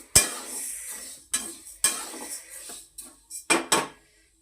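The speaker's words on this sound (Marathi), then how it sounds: "तर हे छानपैकी असं फटफट येईपर्यंत भाजायचे मस्त" Horse gram dry-roasts in a pan, heard as sparse, sharp scrapes and clinks of a spoon stirring the seeds, separated by quiet gaps.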